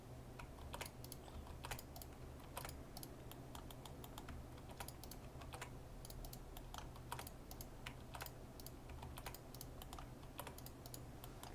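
Computer keyboard keys pressed while working in Blender 3D modeling software, a quiet, irregular series of light clicks and taps with no talking.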